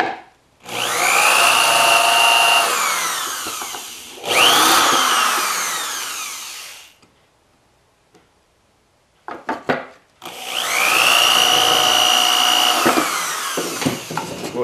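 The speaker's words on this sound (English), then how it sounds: "this drill bit's got a countersink into it so I can get the heads in flush" A power drill with a countersinking bit bores into wood for number 6 stainless screws, whining in long bursts with a short pause and a few brief taps between, close and loud with no speech.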